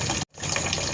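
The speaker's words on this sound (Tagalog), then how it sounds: "Hinuhugasan ko po muna yung munggo bago ko iluto." Tap water runs steadily over mung beans being rinsed before cooking, a close, even gush broken by one brief silent gap, with no talking.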